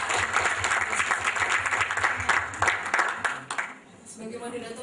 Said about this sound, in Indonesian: bisa kita berikan tepuk tangan yang meriah